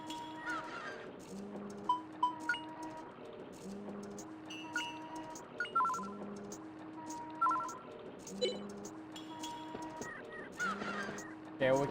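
Seagulls squawk around a port in Grandia HD Remaster, with repeated short calls scattered over a steady ambient game soundtrack.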